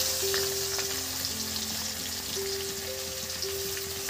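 Onions hitting hot spiced oil in a pan for a doi katla curry, frying in a steady loud sizzle that fills the whole stretch without any talk.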